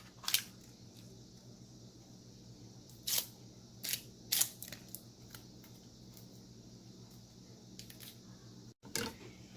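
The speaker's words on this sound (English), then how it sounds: "let's take our white onion, cut that in half, and we'll do the same. Get rid of the end over there and take the skin off" A knife halves a white onion, trims the end and peels off the skin. A handful of crisp, quiet cuts and snaps are spaced apart over a faint steady room hum.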